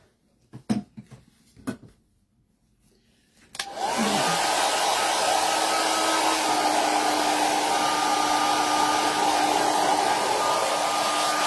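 A hair dryer switches on after a few light clicks and knocks and blows steadily and loudly at close range, drying a vintage bunny craft piece on a trim tray.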